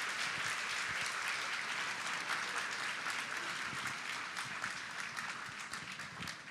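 Congregation at a centennial celebration of Japanese Christian churches in Southern California claps in a broad, continuous round of applause, dense and even, heard from a moderate distance and somewhat soft in level.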